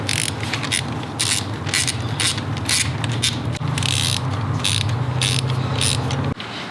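A steady run of ratcheting clicks comes from a socket wrench tightening bolts on an anodized aluminum Zeta drive guard on a 2021 Honda CRF300L Rally, close and continuous with brief pauses.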